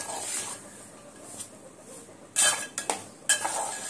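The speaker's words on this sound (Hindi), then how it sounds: "आटे में अच्छे से मिक्स करके लेंगे" A spoon stirring besan flour into ghee in a pan for laddu, with a low background sizzle, soft scraping, and a few louder metallic scrapes and clinks near the end.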